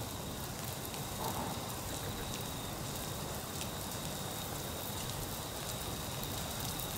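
Rain falls over the entrance to Sydney Harbour in a constant, even hiss with faint patters, steady and moderately quiet for the full stretch with no voices.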